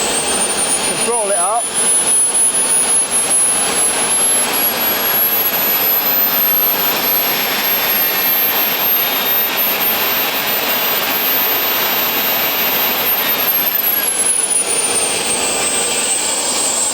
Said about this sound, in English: Can throttle it up.